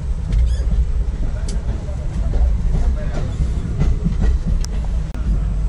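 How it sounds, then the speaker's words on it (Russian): A passenger train in India, Goa to Bangalore, rumbles steadily along the rails with low, continuous rolling noise and occasional faint clicks and squeaks, heard from inside an air-conditioned car or close by. "Наш поезд вон заворачивает."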